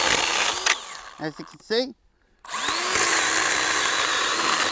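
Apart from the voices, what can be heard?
Milwaukee Fuel 6 inch chainsaw cutting timber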